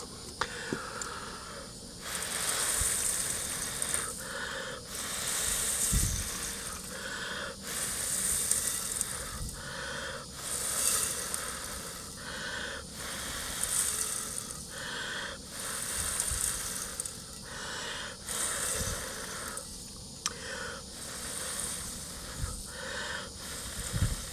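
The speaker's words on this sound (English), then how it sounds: "I'm just going to blow into this bowl, and it should blow that chaff" Repeated puffs of breath blown into a bowl of harvested mustard seed to clear off the chaff, each breathy gust about two seconds long with short pauses between, close and fairly loud, no voices.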